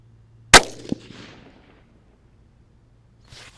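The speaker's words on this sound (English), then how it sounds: "I shot some ballistics gel with this round out of this same gun." A Savage 93R17 rifle fires one shot into ballistics gel: a single sharp, loud crack, then a quick thump, then near silence and a faint rustle at the end.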